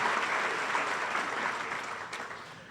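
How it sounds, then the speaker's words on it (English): Audience at a 2017 small business of the year awards ceremony applauds award winners, a steady wash of many hands clapping that holds evenly for the full span and eases slightly near the end. "Please give them a round of applause."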